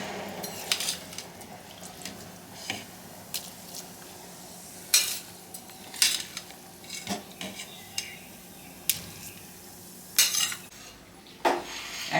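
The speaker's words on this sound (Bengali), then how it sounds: "একবার নেড়ে দিচ্ছি এটা যাতে দেওয়ার সঙ্গে সঙ্গে না বসে যায়" Washed rice and red lentils being stirred in a pot of boiling water for khichuri, with repeated scraping and clinking of a spoon against the pot between softer bubbling and sizzle.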